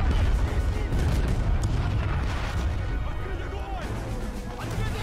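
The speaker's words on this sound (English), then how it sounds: "Using their grenade launchers." A chaotic battle in the video game Army Men of War, grenade launchers and gunfire thudding in dense, repeated booms over a constant low rumble, with a voice talking over the fighting.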